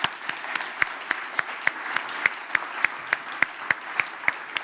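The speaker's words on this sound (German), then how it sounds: "Bitte erstmal einen Applaus für Frau Hummel." Applause at a Bavarian digital summit for Melanie Huml, Bavarian state minister for European affairs, heard as a steady, evenly spaced run of single claps over a faint background of clapping.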